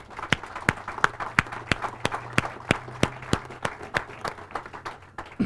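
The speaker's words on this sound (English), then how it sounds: "I also want to give a big round of applause to Friends of Kellytown and its chairman, Ridley Wills" A small audience at an outdoor plan announcement gives a sparse round of applause, a few distinct claps repeating at a steady rhythm, fairly close and moderately loud, without voices over them.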